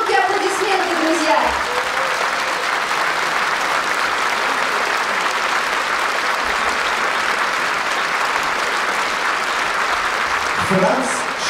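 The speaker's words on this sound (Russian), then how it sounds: "Громкие аплодисменты" Loud, sustained audience applause fills a concert hall at an anniversary concert of the Loktev Ensemble, a dense steady wash of clapping that holds evenly for the whole stretch, with a few voices briefly audible at the start and end.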